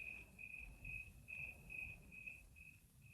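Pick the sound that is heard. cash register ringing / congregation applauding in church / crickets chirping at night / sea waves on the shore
crickets chirping at night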